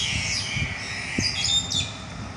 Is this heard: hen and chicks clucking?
no